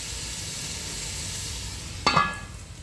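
Sliced onions sautéing in a covered pan for fish biryani give a steady, moderate sizzle throughout, with a brief louder burst of crackle near the end.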